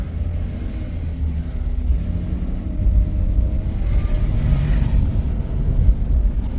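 Low, steady engine rumble from a Mercedes 300E W124 pulling away on its first drive after nine years off the road, heard from inside the car, building slightly as it gets moving with no talking.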